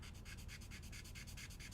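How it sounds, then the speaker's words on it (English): Rapid, even back-and-forth strokes of sandpaper scrub over a tiny hardened super glue fill on a hobby model, a soft close-up rasping rhythm with no talk. "I'm actually gonna start by sanding it down"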